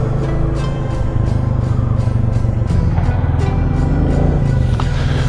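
Up close, a Royal Enfield Classic 350 motorcycle rides along a small road with a loud, steady single-cylinder thump under wind rush, and the engine note shifts a little partway through.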